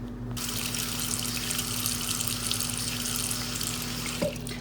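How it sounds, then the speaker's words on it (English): Water pours steadily into a baking pan holding pumpkin pieces, a continuous close splashing rush that runs unbroken for several seconds with no voices. "Now we're gonna go ahead and add just about a ½ inch of water just to keep the pumpkin"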